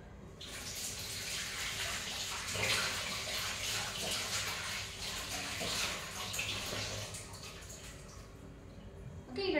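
Fresh rosemary leaves get rinsed under a running kitchen tap, a steady broadband splash of flowing water that stays fairly faint and continuous, with brief louder gushes near the end.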